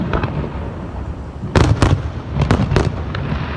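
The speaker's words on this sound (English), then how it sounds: "Former Governor Scott Walker tweeted this video of fireworks going off at the lakefront in Milwaukee tonight." Fireworks bursting at the Milwaukee lakefront, a run of loud sharp pops and crackling blasts at uneven intervals over a steady outdoor rumble, with no talking.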